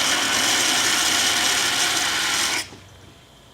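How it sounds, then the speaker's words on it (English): Cavitation roars through a venturi fed from a pressurized tank, a dense harsh rattling hiss like gravel rushing through pipe, loud and steady for over two seconds before dropping off sharply to a faint hiss. "you can even hear these shock waves, which sound like gravel moving through a pipe"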